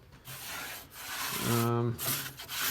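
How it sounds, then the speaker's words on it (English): Abrasive grinding on thin body filler over a 1950 Plymouth quarter panel, a steady rough rasping that holds throughout with a brief tonal whine near the middle, close and moderately loud. "I'm just going to grind it down"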